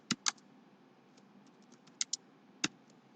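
A computer keyboard pressed in a short Photoshop shortcut: a few quiet, crisp key clicks, two close together at the start, then a couple more spaced apart, nearby and alone.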